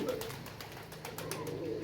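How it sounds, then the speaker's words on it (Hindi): Domestic pigeons in a loft give low, soft cooing murmurs that run continuously in the background, close by and fairly quiet, with no talking over them. "आराम से कबूतर ठापे लगा रहे हैं"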